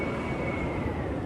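A train at the Stockholm airport station sounds as a steady, loud rumble with a sustained whine, a continuous wash of rail noise throughout and no talking.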